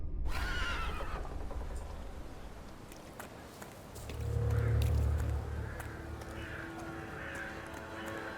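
A horse in the video game The Thaumaturge whinnies at the start, followed by a low snort and soft shuffling hooves, with faint ambient sounds around it and no talk.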